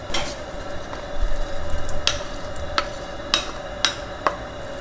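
Pork fat spread across a hot cast iron pan to render into lard, giving a steady soft sizzle with a faint hum and several sharp light pops and crackles scattered throughout, close and moderately quiet.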